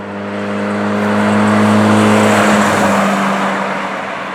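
A Yugo car's engine running while driving, a loud steady droning hum with a strong low tone that swells and then eases slightly, with no talk.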